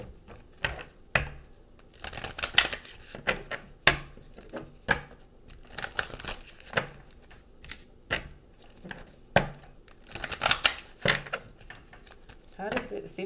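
Love Oracle cards being pulled and shuffled, giving a string of sharp, papery flicks and slaps in uneven bursts, fairly close, with a soft hiss between them and no talking.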